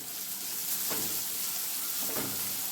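Onion frying in a pan for matki bhaji gives off a steady soft sizzle, with two brief stirring scrapes rising out of the hiss.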